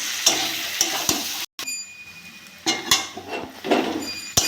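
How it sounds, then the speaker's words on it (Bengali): Taro pieces stir-fried in a cooked spice paste for a taro and tilapia curry sizzle as a spoon scrapes and knocks against the pan in irregular strokes, close and fairly loud, with one brief silent gap. "এবার কচুগুলো দিয়ে দেবো, ভালো করে কষে নেবো।"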